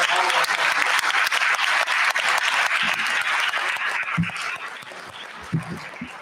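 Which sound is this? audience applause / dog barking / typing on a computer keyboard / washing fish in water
audience applause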